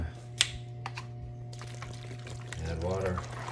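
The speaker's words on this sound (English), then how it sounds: "add water." Bottled water pours onto chili beans over a cooking fire, a rising gurgling splash in the last second, close, with a steady low hum and a few clicks before it.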